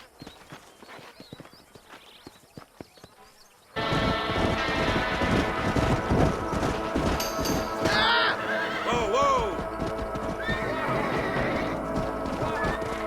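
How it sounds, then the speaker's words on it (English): Horses in Red Dead Redemption gallop outside Armadillo in New Austin, with loud rapid hoofbeats that burst in and keep pounding, and several shrill whinnies rising over the running herd. "These are fine horses."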